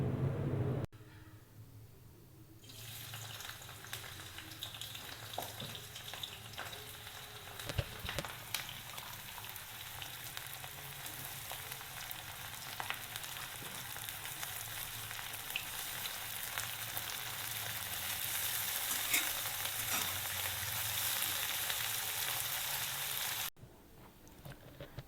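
Chopped onions frying in hot oil in a kadai to make beresta, a steady crackling sizzle that runs continuously and grows slightly louder and denser toward the end before cutting off.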